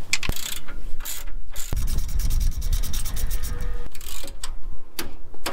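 Ratchet cranking out 21 mm caliper bracket bolts on a Chrysler 9.25 axle: loud, close, rapid rhythmic clicking in bursts, broken by a couple of sharp knocks and a grinding pull in the middle, with no talking.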